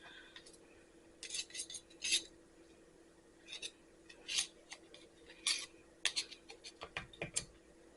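Banana bread batter, gluten- and dairy-free with nuts, is folded in a bowl, a spoon or spatula giving intermittent scraping clinks and soft wet clicks against the bowl's sides and bottom, close and fairly quiet with short gaps between strokes.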